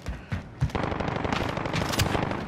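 Rapid automatic gunfire bursts in Call of Duty Modern Warfare multiplayer, dense and continuous with sharp individual shots, loud and close throughout with no talking.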